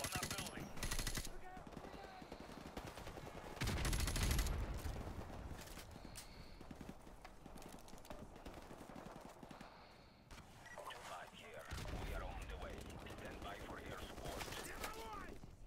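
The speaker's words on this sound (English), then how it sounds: "Damn, that's like massive gunfire." Bursts of rapid automatic gunfire crackle and rattle in sustained volleys with brief lulls, loud and dense, in a Call of Duty: Modern Warfare Remastered campaign firefight.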